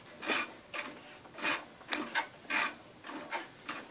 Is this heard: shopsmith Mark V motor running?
yes